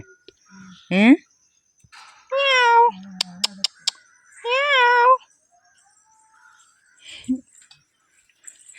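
A cat meows several times in short, clear calls spaced across the clip, fairly close, with a few faint clicks and quiet background between the cries.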